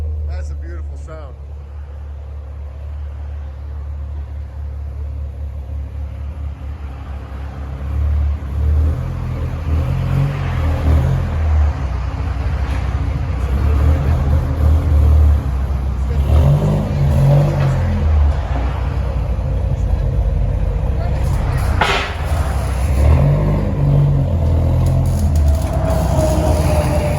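Close, deep burbling idle from a 2004 Dodge Ram SRT-10 with long-tube headers and dual 14-inch MagnaFlow exhaust, a steady low rumble that swells slightly with a few small throttle rises while people talk over it.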